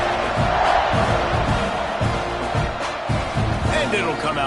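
A packed stadium crowd roars at a Kennesaw State versus Texas A&M college football game, a dense continuous swell of cheering beneath a play-by-play commentator talking throughout.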